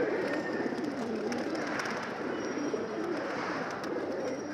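Pigeons coo softly and steadily in a coop, a low murmuring layer with faint chirps over constant background noise and no talking.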